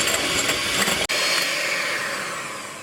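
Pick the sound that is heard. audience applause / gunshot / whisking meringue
whisking meringue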